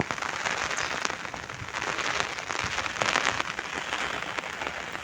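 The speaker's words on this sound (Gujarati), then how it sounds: "વરસાદ પણ સારો છે યસ સારો છે વરસાદ" Heavy rain pours steadily outdoors around an old stepwell, a dense, even hiss of drops spattering on surfaces close by, with no one speaking.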